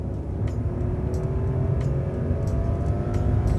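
Rolls-Royce Ghost Extended, a large heavy luxury saloon, accelerating with a steady low engine drone and rising whir heard from inside the cabin, continuous and moderately loud, no talk.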